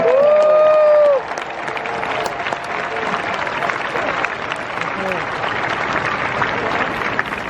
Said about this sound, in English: let's give the dads in particular a round of applause